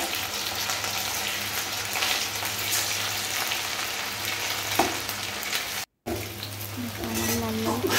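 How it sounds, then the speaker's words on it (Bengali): Cauliflower florets fry in hot oil with a steady close sizzle and occasional stirring clinks, continuing throughout apart from a brief cut near the end. "ভেজে নিতে হবে, লাল লাল করে। আস্তে আস্তে উল্টাতে হবে বন্ধুরা, নাহলে ফুলকপিটা ভেঙে যাওয়ার সম্ভাবনা থাকে।"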